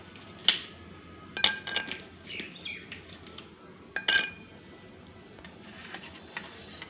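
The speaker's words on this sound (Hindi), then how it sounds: "यहाँ पे हमने लिया है 1 गिलास, तो जिसमें आइस डालेंगे" Ice cubes clink into a single glass while a mango panna drink is being prepared, with a few sharp, separate glassy knocks spaced out over a quiet room background.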